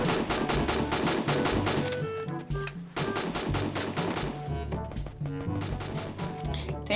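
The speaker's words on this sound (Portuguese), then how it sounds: "Tem gente do lado aí atirando." Rapid automatic gunfire in a shooter video game, dense and continuous with brief gaps, loud and close throughout.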